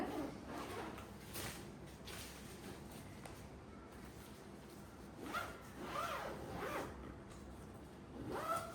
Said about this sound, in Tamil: நல்லா ஜிப் கவர் கொடுத்துருக்காங்க